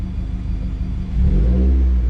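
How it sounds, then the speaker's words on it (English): Car engine with Autolite Iridium XP spark plugs after 120k miles revving close up, a steady idle rumble that swells into a louder, deeper rev near the end. "I'm gonna stop revving it before I choke myself."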